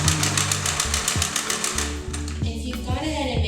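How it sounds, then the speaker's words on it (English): A sewing machine running a zigzag stitch with an edge foot over the seams of a fabric canvas slipcover, a fast steady mechanical chatter in short bursts with brief pauses, close and loud. "I've got an edge foot, and I'm on my zigzag stitch. I'm just going to go over all the seams to lock them up."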